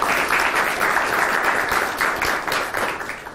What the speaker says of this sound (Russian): Похлопаем тоже.